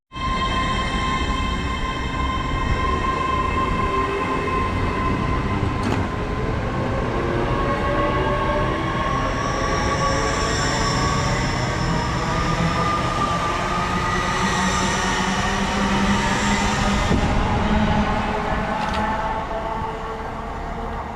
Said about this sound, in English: So there goes 801218, that's the 1710 LNER service from York to London King's Cross.